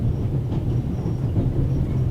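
A train in The Raven Remastered video game, set in Switzerland, rumbles with a steady, loud low roll that continues unbroken.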